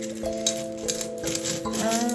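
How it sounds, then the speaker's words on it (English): Small charms are shuffled by hand during a tarot-style card reading, giving light metallic clinks and jingling taps in irregular bursts, close and fairly soft. "This is your one warning before I start shuffling the little charms."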